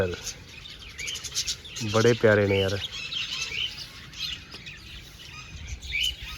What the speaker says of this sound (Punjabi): ਛੋਟੇ ਛੋਟੇ ਤੋਤੇ ਜਿਹਦਾ ਨਾਮ ਹੈ ਬਜਰੀ